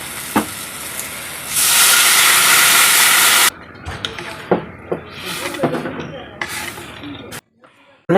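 Water poured into hot oil with a fried onion and egg masala in a pan gives a loud burst of hissing steam and sizzle, then subsiding crackles and pops while a person talks.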